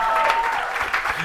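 Applause from the audience at the OpenAI GPT-4o announcement, a dense, steady wash of clapping filling the short moment at a moderately loud level.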